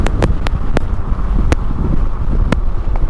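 Strong outdoor wind buffets the microphone with a constant, loud, rumbling roar, broken by a few sharp clicks and knocks.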